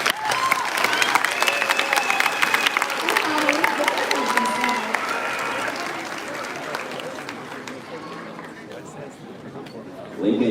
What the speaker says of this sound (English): And let's hear that applause.